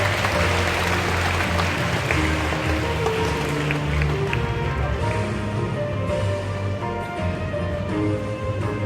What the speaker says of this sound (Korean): 니키 버주얼 선생님을 큰 박수로 모시겠습니다.